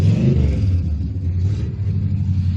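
A 1980–81 BMW 735i, a first-generation 7 Series, idles and revs at a classic car show, giving a loud, close, deep engine rumble that holds steady throughout.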